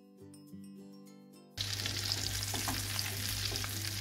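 Veal sweetbreads fry in foaming melted salted butter. After a short stretch of soft music, a loud, bright sizzle cuts in abruptly and holds steady with spattering crackles.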